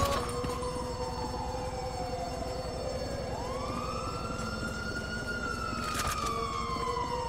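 An ambulance siren in GTA V wails with rising and falling sweeps, steady and fairly loud throughout, over a constant low rumble of game traffic and engines.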